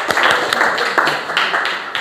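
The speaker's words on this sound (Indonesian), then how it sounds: "Tepuk tangan lagi untuk kita semuanya." Classroom applause for students' group presentations: brisk, near hand clapping from a group of pupils, a continuous patter of claps with a few sharper strokes, lasting the whole short moment.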